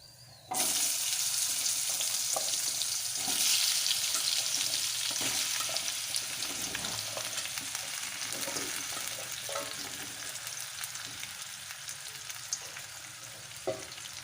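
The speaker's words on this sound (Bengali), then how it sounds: "ফোড়নটা ভাজা হয়ে গেলে এর মধ্যে আমি কেটে রাখা সবজিগুলো দিয়ে দেবো" Panch phoron tempering and cut vegetables fry in hot oil for a drumstick curry, giving a loud, steady sizzle that runs unbroken for the whole stretch with faint clinks of stirring.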